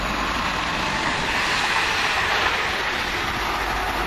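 A London Midland passenger train passes close by at Kings Langley, a loud steady rush of wheels on rails with rhythmic clickety-clack over track joints and no voices.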